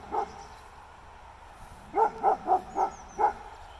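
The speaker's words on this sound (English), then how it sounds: "Barky dog" A dog in a summer garden barks: one short bark, then after a pause a run of five quick barks at a moderate distance, with no talk.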